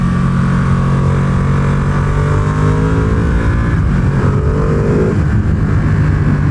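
A 2020 Ducati Panigale V2 on stock suspension is ridden at speed, its engine droning loud and steady with shifting pitch, heavy wind rush filling the whole stretch, no voices.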